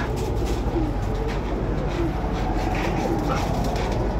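Pigeons cooing at a bird seller's coop, low soft coos repeating under a busy, noisy background with occasional barking from a dog.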